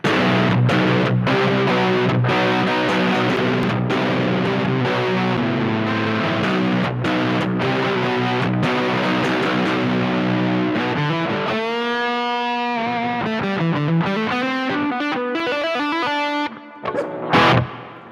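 PRS Tremonti Baritone guitar into an amp's hard-rock channel B, playing dense distorted riffs with a steady chugging rhythm, then shifting to slower bending lead notes near the end, loud and alone with no talking.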